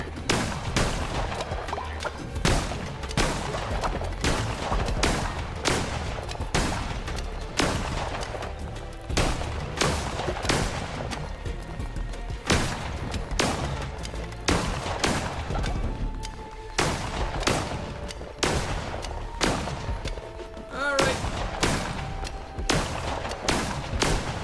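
Rapid, punchy bursts of gunfire from a poison gun in Cult of the Lamb, loud and closely spaced shots repeating steadily in a dense rhythm throughout, with no voices over them.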